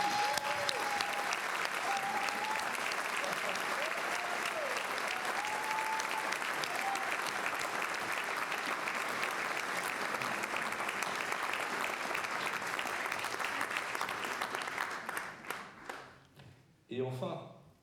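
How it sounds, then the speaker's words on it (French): An audience at a film festival closing and awards ceremony in the Théâtre Graslin applauds in a long, dense, even wash of clapping, with a voice speaking over it early on, before it tapers off and a voice resumes. "un applaudissement"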